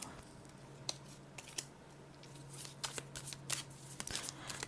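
Playing cards are shuffled and riffled close up in quick, crisp bursts of flicking and snapping, with short pauses between shuffles.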